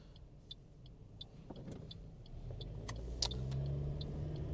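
Cars approach and pass along a suburban road near a roundabout in Bundoora, Victoria, heard from inside a vehicle waiting to pull out. There is a steady road hum, with one engine swelling louder and nearer toward the end.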